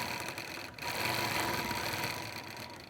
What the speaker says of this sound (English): I'll just do a few stitches to secure that since I'm in manual.